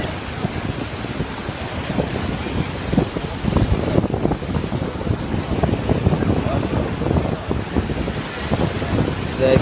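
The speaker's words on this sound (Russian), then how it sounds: "дует сильный ветер с моря. Холодный ветер." Strong cold wind off the Black Sea buffets the microphone at the central beach in Koblevo, a constant gusty rumble with the surf washing underneath.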